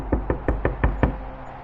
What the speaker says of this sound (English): we heard a sudden knocking sound on the cabin door